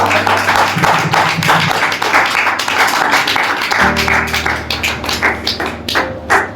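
A church congregation claps loudly in quick, rhythmic bursts, the many hands merging into a driving patter over low sustained tones that shift midway, continuing strongly before thinning toward the end.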